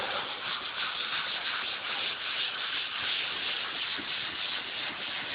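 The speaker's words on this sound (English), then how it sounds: "it will literally act just like sandpaper" Continuous wet scrubbing of a wet sponge on drywall, a steady gritty scratching sound in circular strokes, close up, with no talking.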